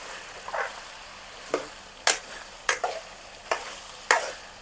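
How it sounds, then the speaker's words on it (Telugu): Ginger paste for a village-style cashew chicken curry frying in a pan, stirred with a spoon that scrapes in several sharp strokes over a low, steady sizzle, close and moderately loud. "అల్లం పేస్ట్ వేసుకుని ఒకసారి తిప్పుకున్నాం"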